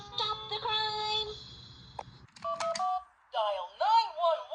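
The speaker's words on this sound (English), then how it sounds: "Dial 911 for the fire truck." Telephone keypad dialing tones, a run of short steady beeps pressed one after another, followed by cartoonish voices speaking.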